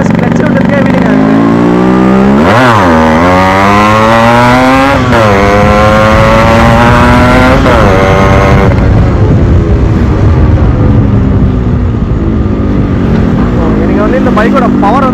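A Yamaha RX 135 two-stroke motorcycle revs up and accelerates repeatedly, its sharp, buzzy engine note climbing through the gears with drops at each shift, loud and close, before settling into a rougher drone near the end.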